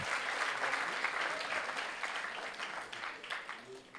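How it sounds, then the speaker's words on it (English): Audience at a talent show applauding steadily, a dense, moderately loud wash of clapping from many hands that continues throughout. "he deserves a good applause"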